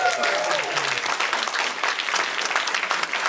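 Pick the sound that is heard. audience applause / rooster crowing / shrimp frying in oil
audience applause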